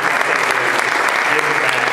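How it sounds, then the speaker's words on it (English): A crowd at a football charity team announcement applauds steadily and loudly throughout, a dense wash of clapping with no pauses. "We want to give them a big round of applause"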